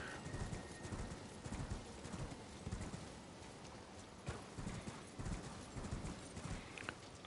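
Horse hooves clip-clop steadily in the video game Elden Ring, a continuous close trotting rhythm over soft background game ambience, with no talking.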